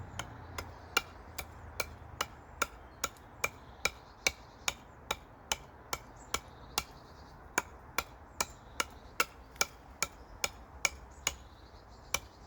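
Small hammer blows tap at a wooden Viking club being carved: a long, even series of about thirty sharp, close strikes, roughly two per second, with no voices.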